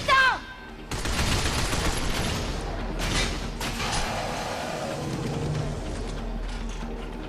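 Sustained gunfire in the Binary Domain shooter, aimed at bringing down a power cable. An opening burst, then a loud continuous fusillade of rapid shots with mechanical clatter, heavy and close throughout.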